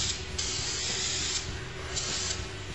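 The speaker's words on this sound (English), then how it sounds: "Cover the whole filter with the cleaner." Cleaner is sprayed onto an engine air filter in a continuous close hiss lasting the whole stretch, with slight pulses as the spray moves across the filter.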